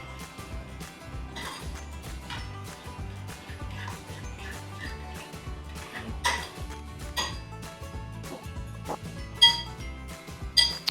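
A salad dressing seasoned with salt and freshly ground black pepper being mixed in a bowl, a busy run of clinks and scrapes of utensil against dish, close and irregular, with no talking.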